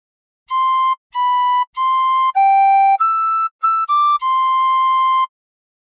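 Tin whistle playing a phrase of God Defend New Zealand: nine clean, breathy notes, mostly even in length, stepping between a few pitches in a steady, slightly halting rhythm, played alone and close.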